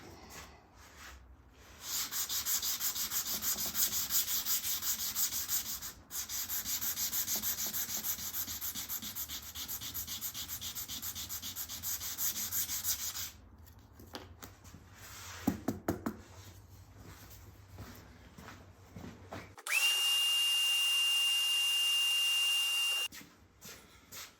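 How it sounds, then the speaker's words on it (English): A power sander roughing out wood runs in long steady buzzing passes with a brief pause between them, then stops, followed by a few knocks and a sharp whine near the end. "This is a great sander for roughing things out, but it does leave swirl marks, which you have to sand back out."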